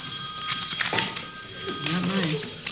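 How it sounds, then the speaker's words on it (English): A mobile phone rings with bright, repeated chirping bursts in a meeting room, mixed with voices talking. "Whose phone is that?"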